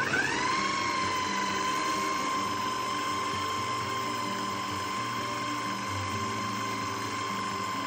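A food processor runs steadily, blending gluten-free pecan financier batter with browned salted butter: a constant, close motor whine with a slight rise at the start and no voices.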